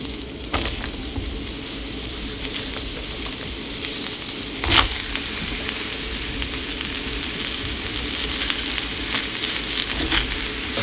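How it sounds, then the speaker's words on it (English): Mushrooms frying in a hot oiled skillet give a steady, dense sizzle and crackle that runs for the whole stretch, with occasional louder pops and spatters. "Okay, so the skillet's pretty hot. I'm going to go ahead and add in all the mushrooms."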